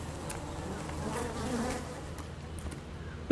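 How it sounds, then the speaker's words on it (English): Bees buzz steadily in the survival game Arid, a continuous droning hum that stays fairly even throughout with no talk over it. "Those are bees."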